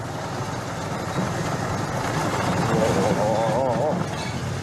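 A battered tuk-tuk in Thailand with an odd, sticking steering, its engine rattling and droning steadily while driving, with people talking over it.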